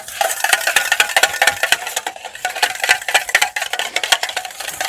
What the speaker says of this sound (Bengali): হ্যান্ড উইস্কের সাহায্যে টক দইটা খুব ভালোভাবে ফেটিয়ে নেব